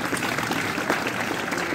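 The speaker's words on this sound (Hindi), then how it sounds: "अपने आप में डाल के ताली बजा ली" Clapping fills a Hindu religious discourse hall, a steady dense round of applause from a gathered audience with no break in the patter.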